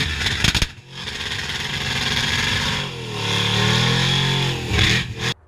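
A loud LS-swapped 1971 Nova drag car running 18 pounds of boost, with an ice tank and a Ford 9-inch rear, revs up and down in sustained swells, with brief cut-outs near the start and end.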